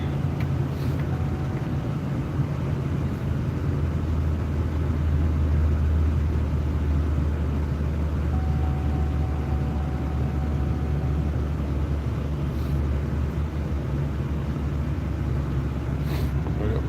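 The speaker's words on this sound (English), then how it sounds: "Fire the truck up, warm it up a bit" A truck engine idles as it warms up, a steady low rumble that stays constant and fairly close with no voices.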